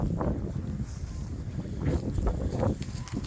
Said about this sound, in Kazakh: Желді аяз міне.